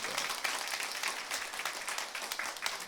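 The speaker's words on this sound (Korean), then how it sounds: "좀 박수 한번 쳐주세요." A church congregation at a Sunday worship service claps for the children sitting in the pews, a soft, continuous patter of many hands heard faintly from a distance.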